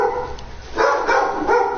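Several puppies bark and yip excitedly at close range, in overlapping bursts of loud, rough barking that stays busy from start to finish with no talk.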